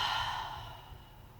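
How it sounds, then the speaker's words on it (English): A single long, audible exhale during yoga breathing, close and breathy, fading steadily away over about a second and a half. "And a big exhale."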